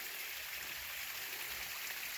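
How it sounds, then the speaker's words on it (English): A small stream of water runs down a sandstone slope on a farm, a steady, even hiss-like trickle at close range with no voices. "You can see that the stream's running down it."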